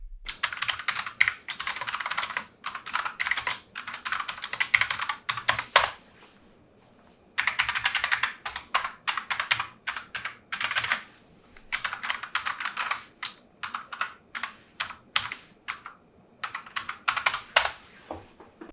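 Fast, clacky typing on a Bloody B750N optical-switch mechanical keyboard, close and crisp, in long bursts with a short pause midway and a few brief gaps.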